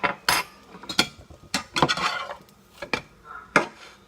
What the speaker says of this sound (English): Take a fork and poke the pancake a couple times